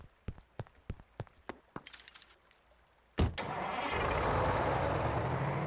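A bus engine in the video game Animal Crossing City Folk, a series of short clicks and knocks followed by the engine catching and settling into a steady, loud idle.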